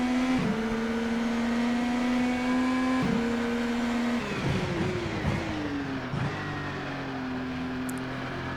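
An Indycar engine drones at high revs at Zandvoort in rFactor 2, a loud, steady whine with brief dips at gear shifts, then a rougher stretch as the car brakes and accelerates through a chicane.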